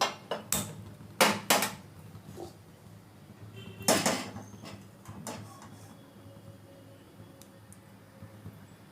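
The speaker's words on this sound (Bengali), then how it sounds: "এবার আমি কড়াইটা গ্যাসে বসিয়ে দিচ্ছি" A metal wok set down on a gas stove in a home kitchen, giving a few sharp clanks and knocks near the start and another cluster midway, with quieter rattles between.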